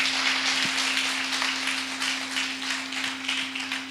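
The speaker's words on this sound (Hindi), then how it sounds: "जोरदार ताली बजा के यीशु के लिए।" A church congregation claps for Jesus in a steady, rippling wash of applause, fairly faint and distant, with a low electrical hum underneath.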